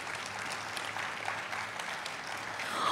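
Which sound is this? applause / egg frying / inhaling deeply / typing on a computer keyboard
applause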